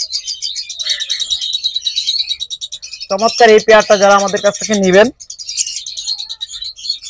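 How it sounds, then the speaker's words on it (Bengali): A DNA-sexed pair of caged pet birds offered for sale chirps steadily and loudly at close range, with someone talking over the middle of the calls. "একদম টপ কোয়ালিটির ডিএনএ করা প্রত্যেকটা পাখি"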